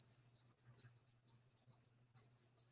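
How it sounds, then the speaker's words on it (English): A cricket chirps steadily in cool night air after rain, its high trilling pulses repeating in short bursts, fairly faint and alone with a low background hum. "I know it was raining and now it's like all kind of cool and there's a freaking cricket singing to me"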